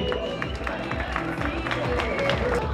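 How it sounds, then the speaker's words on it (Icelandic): An audience at an Icelandic horse-breeding show claps steadily in a dense, continuous patter of applause, with crowd noise and brief voices mixed in throughout. "Já, það í lagi að klappa fyrir þessu."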